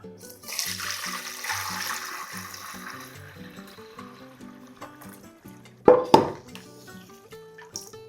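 Homemade vegetable broth poured off and drained, heard as a running water-like stream and trickle over soft background music, ending with a couple of sharp metallic pot clanks.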